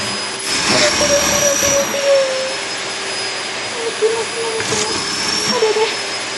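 A vacuum cleaner runs loud and steady with a constant high whine, its pitch dipping and surging slightly, while a voice speaks Japanese over the noise.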